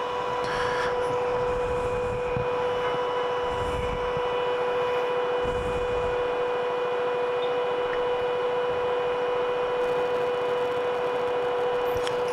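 A fan blows air through a vent with a steady, broadband whoosh and a constant hum underneath, unchanging and moderately loud throughout with no voices.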